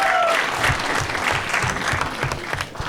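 An audience claps continuously for a friend at a Marathi comedy show, a dense, loud burst of applause that holds steady throughout with a brief voice at the very start.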